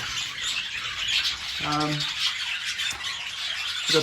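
Budgies chirp and squawk in an aviary with bottle brush and eucalyptus branches, a dense, constant chatter of many birds with one clearer, louder call rising briefly above the flock.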